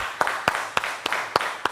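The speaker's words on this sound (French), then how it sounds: "Ça s'applaudit." Six sharp hand claps land at uneven intervals, close and fairly loud, with a faint room hiss between them and no talking.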